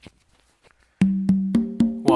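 After a second of near silence, congas sound a funk pattern slowly, five evenly spaced pitched hits ringing out close and clear.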